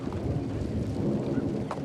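A thunderstorm rumbles low and continuous with steady rain hiss, a dense, close wash of sound with faint crackles and no voices.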